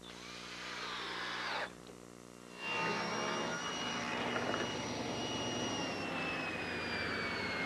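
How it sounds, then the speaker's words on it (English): A power tool drives 1 1/4 inch galvanized screws into wood framing for a hexagonal gazebo roof, a loud whining motor that rises in pitch, pauses briefly, then runs steadily again under a constant hum. "I want to secure the pieces together with some 1 1/4 galvanized screws"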